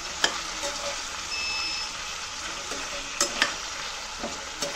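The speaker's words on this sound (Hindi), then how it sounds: "मैंने सारे वेजिटेबल्स इसमें एक साथ डाल दिए हैं, अब मैं इसको मिक्स कर दूँगी।" Mixed vegetables for a one-pot pulao are stirred in a pot, a soft continuous sizzle with scattered scraping clicks of the spoon, and a faint electronic beep sounding briefly in the background.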